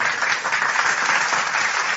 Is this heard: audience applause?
yes